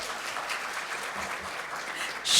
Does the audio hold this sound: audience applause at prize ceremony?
yes